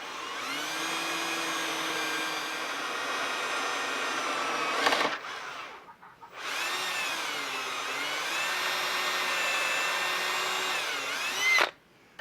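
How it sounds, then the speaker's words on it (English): A power drill bores slowly with heavy pressure through hardened metal while making a knife, a close, steady whining tone held for several seconds, pausing briefly, then resuming before stopping. "When you're drilling through this metal, hardened metal, slow with a good bit of pressure."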